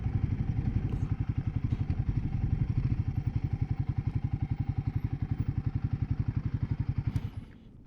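Steady rumbling Royal Enfield Guerrilla 450 motorcycle engine with a rapid pulsing beat and broad rushing wind noise heard through a raised helmet visor on a windy day, loud and close, cutting off near the end.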